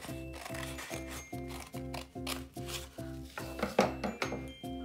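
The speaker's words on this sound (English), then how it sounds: "I'm satisfied though, so I am going to cut my lines." Scissors cutting lines into paper for a weaving art project, a regular run of about ten crisp snips with a bright metallic ring on each close.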